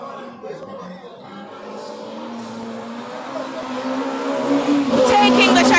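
Race cars lapping a circuit at the JRDC Carnival of Speed, the engine drone building steadily louder as a car approaches, with a commentator talking over it.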